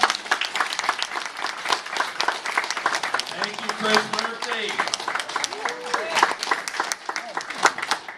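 A crowd at a Democratic campaign stump event claps loudly for a speaker, a dense, uneven burst of applause and some cheering, with someone speaking over it partway through.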